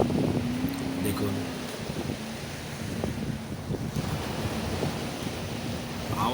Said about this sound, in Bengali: উত্থাল ঢেউ